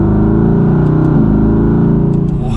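A 2020 Mercedes-AMG GT V8 with sport exhaust revs on a manual downshift, a loud, close, continuous engine roar whose pitch drops then climbs again, with faint crackles near the end.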